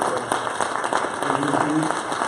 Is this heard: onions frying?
no